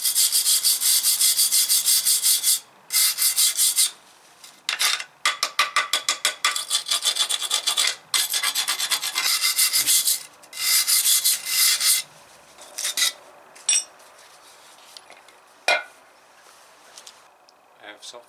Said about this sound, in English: let's brush that off a little bit.